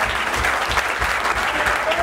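A church congregation applauds during a worship service, a dense, steady burst of clapping from many hands that stays loud and close for the whole moment.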